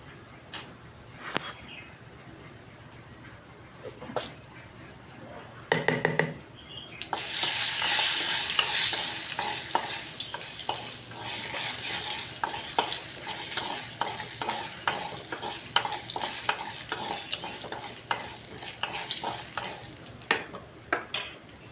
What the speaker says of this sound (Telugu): ఆనపకాయ పచ్చడి అయితే నేను తాలింపు అయితే పెడుతున్నాను.